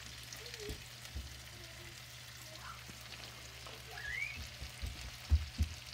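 Dried fish (tuyo) fries in a small pan, giving a faint, steady low sizzle with a few soft clinks and bumps of cookware close by.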